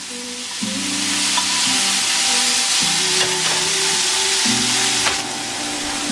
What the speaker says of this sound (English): just let everything saute together for a few minutes before we add the next ingredient